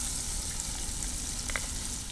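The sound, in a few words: crushed garlic frying in hot oil for tempering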